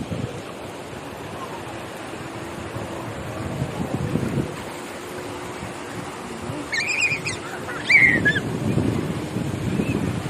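Surf and wind at a Thai beach: a steady broadband wash of waves with rumbling swells rising around the middle and end, blustery wind noise on the microphone, and a few faint higher voices or calls in the background.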